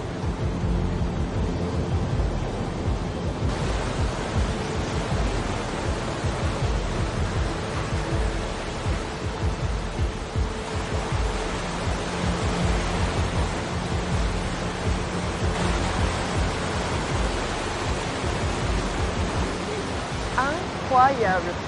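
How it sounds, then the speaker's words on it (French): A roaring waterfall about 423 metres high thunders nearby in a steady, dense wash of noise. The sound is loud and unbroken, with no break in the roar. "on sent le souffle de la cascade"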